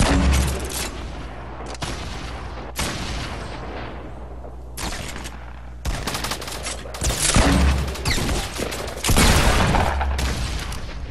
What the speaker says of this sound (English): I'm gonna nade right here.